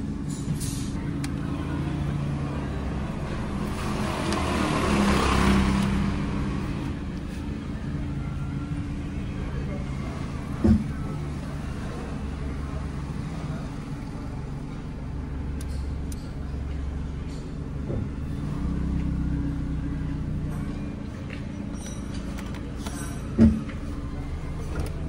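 A Chevrolet Spark with delayed shifting on a road test, heard from inside as a steady low engine drone with road rumble that swells and eases, plus a couple of sharp knocks; people talk at times over it.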